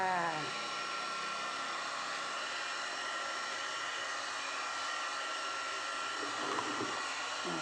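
A handheld iTeraCare device blows a steady, close airy whoosh like a small hair dryer, holding even and continuous from start to finish with no voices over it.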